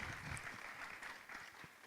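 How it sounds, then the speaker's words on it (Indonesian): An audience applauds at a talk event, with faint, distant, continuous clapping and a thin steady wash behind it, no talk. "Tepuk tangan untuk Kak Jo."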